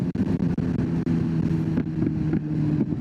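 A motorcycle engine idles with a steady low rumble and exhaust throb close by, briefly revving and dipping a few times.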